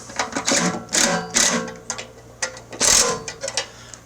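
A power tool zips off the fuel tank bolts of a mid-1970s tiller in short bursts, several quick whirring runs with pauses between them, close and fairly loud.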